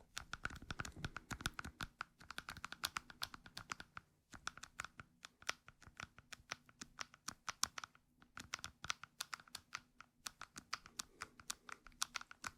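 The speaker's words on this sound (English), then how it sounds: "the first trigger are these little metal clamps" Little metal clamps handled up close as an ASMR trigger, a dense stream of crisp clicking and clattering taps in quick irregular bursts with brief pauses, quiet and without any voice.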